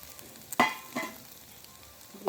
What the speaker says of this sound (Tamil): முட்டையை அடிப்பிடிக்க பார்க்க நாங்கள் கைவிடாமல் கிண்டி கொண்டே இருக்க வேணும்